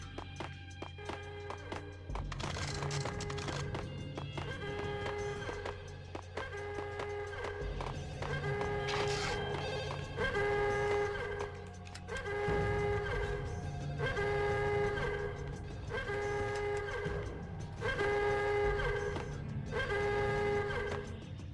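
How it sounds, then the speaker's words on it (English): A telephone rings somewhere in a level of the video game Max Payne, repeating in regular ring bursts every couple of seconds, fairly quiet over low background game ambience. "There's a phone ringing somewhere."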